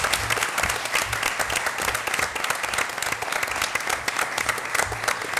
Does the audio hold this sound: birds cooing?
no